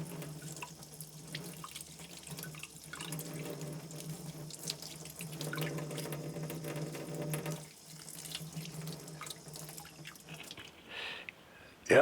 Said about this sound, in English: the best way of peeling it is under running water